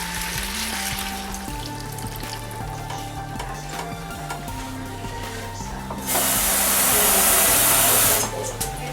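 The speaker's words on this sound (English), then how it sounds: "Now I'm going to add in" A cup of water goes into a cooking pot with thyme and other ingredients, giving a loud hissing rush for about two seconds near the end over steady background music.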